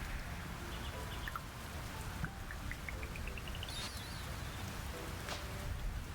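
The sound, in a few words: thunderstorm rain in video game Fields of Mistria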